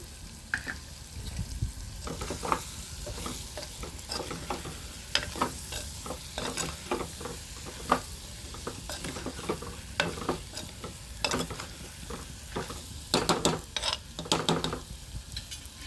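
Potato pieces fry in a clay pot, giving a soft continuous sizzle broken by frequent close scraping and stirring knocks, with clusters of sharper clatter near the end.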